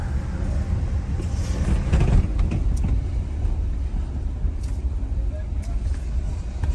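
A Ford Ranger pickup pulling away in gear after a clutch replacement, a steady low engine and road rumble heard from inside the cab throughout, with a voice talking over it.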